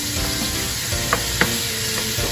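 Pork pieces for a stew sizzle steadily in a hot pan while being stirred to brown, a constant close frying hiss with a few soft scrapes of the utensil.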